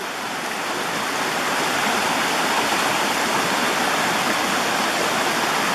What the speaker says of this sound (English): There's some nice waterfalls way up there.